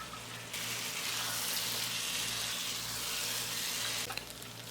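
Soaked long-grain basmati rice tipped into a hot pulao pot sets off a steady, loud sizzle and hiss that rises abruptly, holds for several seconds, then eases back near the end, with no talking.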